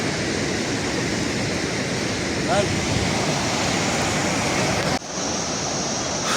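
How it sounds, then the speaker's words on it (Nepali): A clear mountain stream rushes along the trail to Timbung Pokhari near the Kali Khola bridge, a loud, steady broadband roar of flowing water filling the whole clip, with a brief whistle-like chirp partway through. "यो लेकको पानीहरू दूषित एउटै छैन, साह्रै राम्रो खोला"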